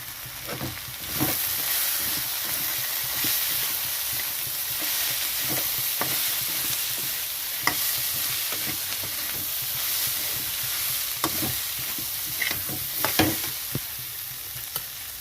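Ground turmeric, Kashmiri chilli and coriander fry in hot oil with a steady sizzling hiss, broken now and then by clinks of the spoon against the pan, close and continuous, with no voices.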